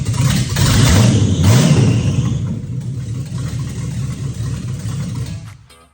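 A 454 big block V8 engine with exhaust pipes disconnected from the headers revs loudly and raw with an unmuffled roar, rising then settling into a rough rumble before cutting off abruptly.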